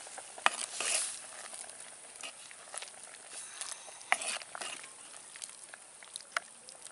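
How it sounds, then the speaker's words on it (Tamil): A pot of tamarind gravy for drumstick-leaf kuzhambu boils quietly, giving a faint, uneven bubbling and scattered small pops and splutters, close by with no voices. "நல்லா குழம்பு கொதிச்சு வந்துருச்சு"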